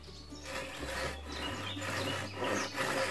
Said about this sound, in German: Und fange dann ganz vorsichtig an, mit der Japansäge eben diese Schnitte zu machen.